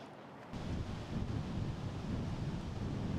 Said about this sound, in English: Another weird wind